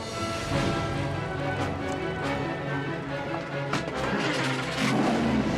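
A Delta Wing race car engine roars steadily and loudly throughout, with a dense, continuous mechanical drone and occasional sharper bursts.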